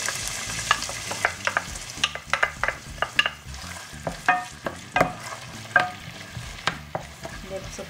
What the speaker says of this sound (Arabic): ندير البصل تاعي يتقلى مليح